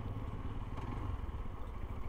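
A Honda NH motorcycle engine runs on a quiet street while the rider pulls over to park, giving a continuous low rumble with some light clatter and no talk.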